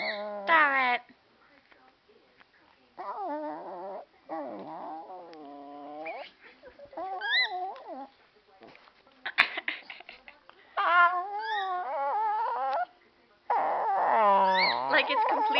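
Kacey the cat meows in protest at the camera, a long string of drawn-out, whiny, rising and falling yowls, loud and close, broken by short pauses.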